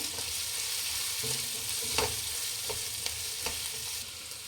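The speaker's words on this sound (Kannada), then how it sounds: "ಸ್ವಲ್ಪ ಚೆನ್ನಾಗಿ ಫ್ರೈ ಮಾಡ್ಕೊಬೇಕು ಈರುಳ್ಳಿ ಚೆನ್ನಾಗಿ ಫ್ರೈ ಆದರೆ ಟೇಸ್ಟಿಯಾಗಿರುತ್ತೆ" Onions frying in a pan for quick egg rice make a continuous close crackling sizzle, with a few light clicks of a spoon stirring through it and no voice.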